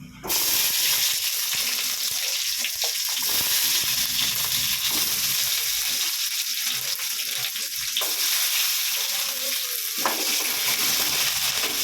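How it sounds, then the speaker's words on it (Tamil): Urad dal and onion frying in a little oil in a pan, a loud continuous hissing sizzle that stays steady throughout with occasional faint stirring knocks, close up and without speech. "இந்த பருப்பு வெங்காயம் போடுறேன்"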